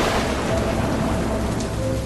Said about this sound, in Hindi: बारिश भी बहुत ज्यादा तेज हो रही है